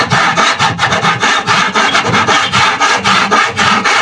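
A dull hand saw cutting wood at a construction site, making steady, loud, close back-and-forth strokes in an even rasping rhythm, about two strokes per second, with no talking.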